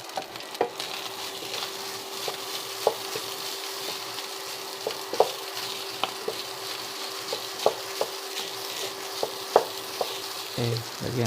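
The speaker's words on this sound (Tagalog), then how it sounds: "lagay na natin yung rice. Okay. Haluin lang natin." Rice is stirred into a pan with leftover adobo and hotdog pieces, a constant frying sizzle broken by repeated scraping and tapping strokes of a spatula at an irregular pace, with a low steady hum beneath.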